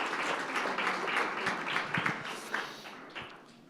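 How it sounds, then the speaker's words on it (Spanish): A church congregation gives a strong round of praise applause, dense close clapping that holds steady and then thins out and fades toward the end. "Fuerte ese aplauso de alabanza al Señor."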